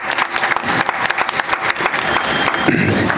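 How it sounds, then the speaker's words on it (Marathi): Audience applause for a percussionist at a percussion concert during a Maharudra Swahakar ceremony: a dense, close burst of many hands clapping that continues unbroken. "एकदा जोरात टाळ्या रोहितसाठी"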